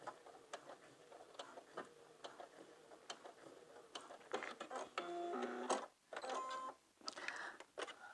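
A sewing machine back-stitches at the hem of a maxi skirt in short, close bursts of rapid stitching separated by brief pauses, with a longer run in the middle.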